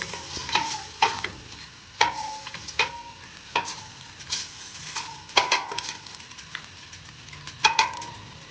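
A utensil scrapes and knocks against a pan while braised beef is stirred, giving irregular metallic clinks and scrapes over a faint, low sizzle close at hand.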